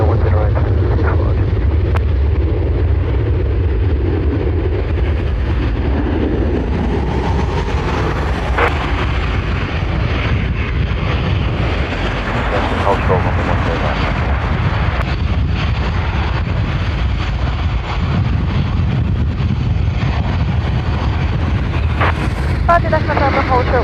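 A Ryanair airliner departs runway 10R at Dublin Airport, a broad, steady low roar of jet engines heard from a distance under heavy wind buffeting on the microphone, sustained throughout without fading.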